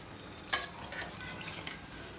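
Onions frying in a pan, a soft continuous sizzle with one sharp scrape of a utensil early on and a lighter clink later, close and quiet.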